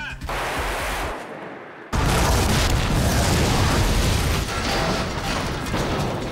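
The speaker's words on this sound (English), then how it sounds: "we have explosions and fire" Loud, rumbling blasts of an explosion with a roaring, crackling wash of noise, interrupted by a short hush before a second sustained boom takes over.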